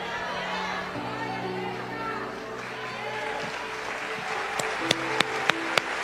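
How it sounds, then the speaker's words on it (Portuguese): A church congregation applauds, many hands clapping in a broad steady wash with some crowd murmur, and a few sharper, louder claps stand out near the end. "Esse aplauso é para o Senhor Jesus, que não desiste de nós e continua investindo na gente."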